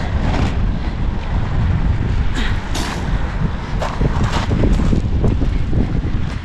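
Strong wind outdoors buffets the microphone in a steady, loud rumble, with occasional sharper gusts and no voices.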